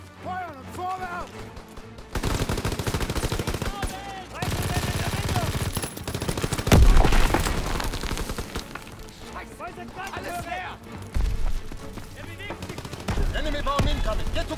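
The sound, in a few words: machine gun fire in Call of Duty WW2 video game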